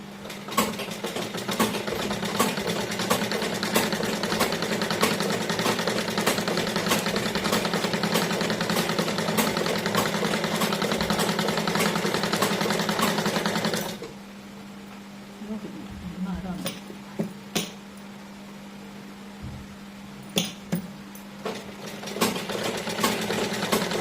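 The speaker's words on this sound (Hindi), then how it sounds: "किनारे किनारे पे सिलाई कपड़े पे लगा" A sewing machine runs steadily along the edge of a kurti collar for about fourteen seconds, a close continuous mechanical whir that then stops, leaving quieter handling clicks and a faint hum.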